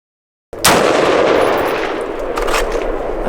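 An AR-15 rifle fires a single sharp, loud shot during a stress test after a moment of silence, followed by a long rumbling echo that fades slowly outdoors.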